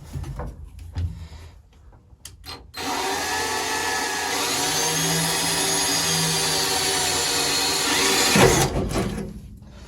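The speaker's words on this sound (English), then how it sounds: "Let's drill that." A few clunks and handling noises, then a power drill whines steadily for several seconds as it bores into the rusty floor metal of a classic car, close and loud, before stopping abruptly.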